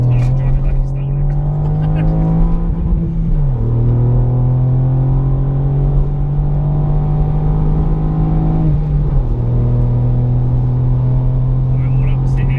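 A Ford Fiesta ST MK8 three-cylinder engine revs hard and accelerates in a loud, steady drone, pitch climbing through each gear, then dropping sharply at the two shifts before rising again.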